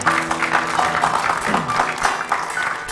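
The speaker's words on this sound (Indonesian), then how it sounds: "Ya, tepuk tangan dulu." An audience bursts into applause, a dense, continuous patter of many hands clapping in a room, with some voices mixed in.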